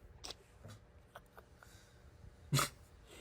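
A dog snorts and sneezes in a quiet room, a few soft short snuffles followed by one sharp, louder sneeze near the end.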